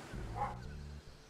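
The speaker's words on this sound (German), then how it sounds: "Ah, natürlich sind draußen jetzt erstmal die Hunde wieder laut." A dog barks outdoors, heard as one muffled, fairly distant bark under quiet background noise.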